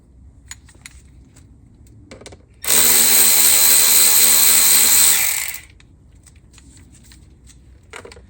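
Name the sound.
power tool with 10mm socket removing clamp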